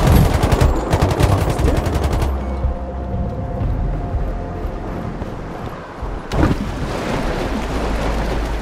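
Rapid automatic gunfire rattles in the shooter Sniper Ghost Warrior Contracts, with dense bursts at the start, a lull of rumbling ambience, and then another loud burst of shots.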